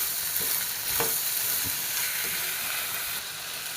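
Ivy gourd stir-fries in a hot pan, a steady close sizzle broken by a few scraping stirs of the spatula against the metal.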